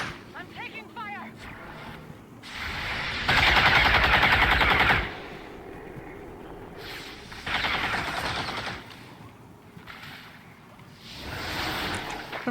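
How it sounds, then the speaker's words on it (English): Bursts of automatic gunfire from a heavily modded XCOM 2 campaign come in several loud sustained volleys separated by quieter gaps, with someone talking over the fighting. "I'm taking fire."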